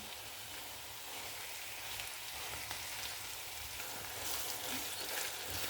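Onions and minced meat fry steadily in a pan, a continuous close crackling sizzle with no voices, growing slightly louder toward the end.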